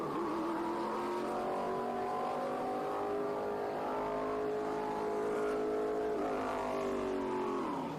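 Dai Yoshihara's 800-horsepower Toyota race car accelerates hard up the Pikes Peak hill climb, engine howling through rising gear pulls with brief shifts, loud and continuous.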